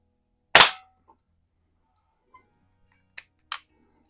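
A Rohm Twinmaster Match air pistol fires one sharp, loud crack, followed after a pause by two quick, faint clicks like handling or a hit on a can, in otherwise quiet surroundings.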